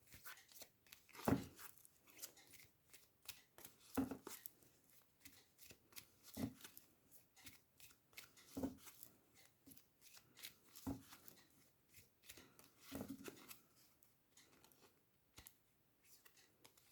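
A deck of oracle cards is shuffled close by, soft papery riffles and sharp taps repeating every couple of seconds, quiet and without talk.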